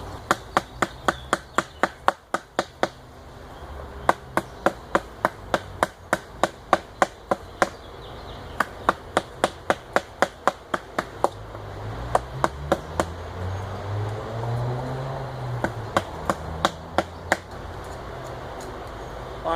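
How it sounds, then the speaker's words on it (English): Rapid, rhythmic tapping as a puukko knife blade chisels through wood while a hatchet handle is shaped, dozens of sharp close knocks in quick bursts over a low background hum. "Let's use the sharpness of the blade, and we'll go ahead and chisel through this guy."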